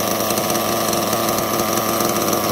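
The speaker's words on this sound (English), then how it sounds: "We fired it up. It's lit. She idling." Engine fitted with a Reds Racing turbo plug runs at a steady, loud, buzzing idle right up close, with no talk.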